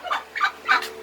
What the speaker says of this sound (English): The chickens love to get in here and tear everything out of the nest boxes.